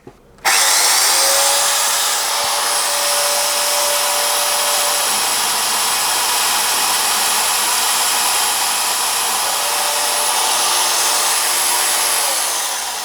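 A steady, loud mechanical whine with a high-pitched tone runs unbroken for several seconds as a belt-driven Goodell-Pratt drill press spots a hole close by.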